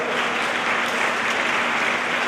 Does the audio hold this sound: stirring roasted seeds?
no